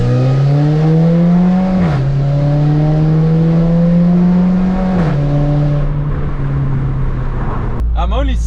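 A VW Golf GTI with a stage 2 tune pulls hard through second and third gear in traffic: a loud, close engine drone climbs in pitch, dips at two quick shifts, then keeps rising.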